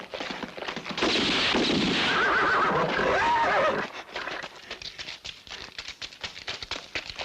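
A horse whinnies loudly in a 1967 spaghetti western gunfight scene, a long sustained neigh over clattering action, followed by scattered sharp hoof and impact sounds.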